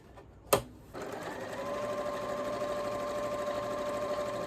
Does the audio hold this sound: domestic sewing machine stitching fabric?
yes